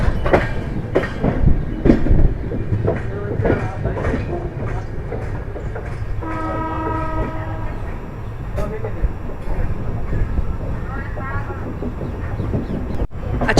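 A long-distance express train passing through a junction station as the carriage rolls over track switches, with steady rolling rumble and irregular wheel clatter throughout, plus some squealing tones midway; a voice talks at times.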